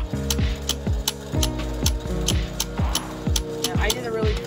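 A sewing machine runs giant zigzag stitches back and forth over a hole in fabric, its needle thumping in a steady quick mechanical rhythm, loud and close.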